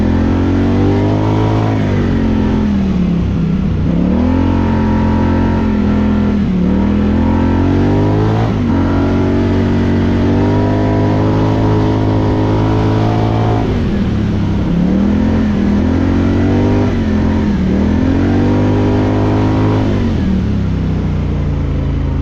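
A Polaris Scrambler 1000 ATV engine revs loudly and continuously on a snowmobile trail in freezing weather, its pitch rising and falling through repeated throttle surges, close and dominant throughout.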